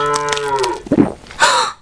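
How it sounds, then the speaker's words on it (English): A cow moos loudly and close, a drawn-out low call followed by a shorter, rougher second call, with no voices around it. "OMG, Them, don't eat that cow."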